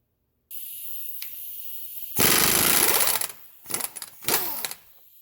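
A 32 mm axle nut on a 2006 Subaru Forester is loosened with a pneumatic impact tool: after a compressor-like whine, a loud close hammering burst of about a second, then two shorter rattling bursts.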